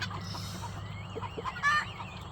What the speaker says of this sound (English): Those guineas were beating up the rooster underneath the thing this whole time